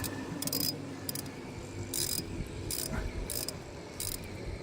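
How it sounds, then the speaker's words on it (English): Bolt on the thermostat housing of a 2021 Ram 2500 HEMI being tightened by hand tool, giving several short bursts of bright ratcheting clicks spaced about a second apart over a steady low engine-bay hum. "Let's start tightening it down."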